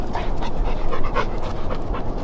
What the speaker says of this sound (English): Those dogs are so sweet.